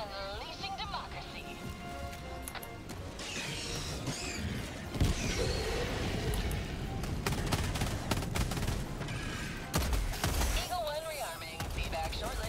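Helldivers 2 gunfire and explosions crackle in bursts, with heavy booms and rattling shots layered under voices talking throughout.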